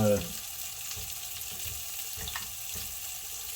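Unsalted butter sizzles and crackles softly in a pan while melting for a salmon sauce, a steady low frying hiss with faint scattered pops and no talking.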